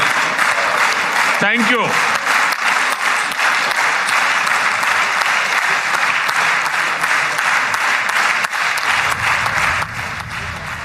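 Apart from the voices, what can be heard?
applause in the Knesset chamber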